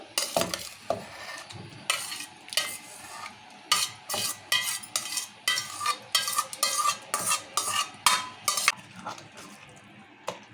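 Tomatoes and red chillies for a pickle cooking in a pan as a spoon repeatedly stirs and scrapes them, making rhythmic wet scraping bursts over a soft sizzle; close and clear, with no speech.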